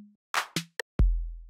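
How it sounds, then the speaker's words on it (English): An 808 kick drum from Ableton's 808 Core Kit lands near the end as a deep, booming hit with a long low tail, after a few short clicks and percussive hits, all close and without talk. "play the second one with the 808 kick."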